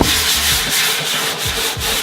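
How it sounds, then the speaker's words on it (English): Wooden kitchen cabinet doors are sanded with 120-grit sandpaper in a garage, a close, steady scratchy rubbing with faint back-and-forth strokes and no voices. "We're sanding the doors out in the garage right now"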